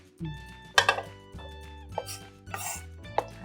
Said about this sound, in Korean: 자, 도마에 얹어서 좀 다지듯이 썰어줍니다.